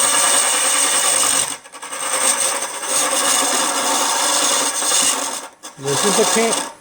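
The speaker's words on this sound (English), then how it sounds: "And I can go back to hollowing again." Wood being hollowed on a woodturning lathe during a demonstration: a steady, loud scraping hiss of the tool cutting, briefly broken twice as the cut pauses, then resuming, with no talk.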